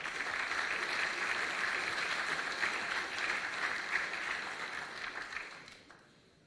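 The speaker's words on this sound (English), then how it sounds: "So please, big applause to all of these guys which are behind the scenes." Sustained crowd applause for the behind-the-scenes team at the S2H 2021 opening ceremony, a dense steady roar of many hands that holds for about five seconds and then fades away.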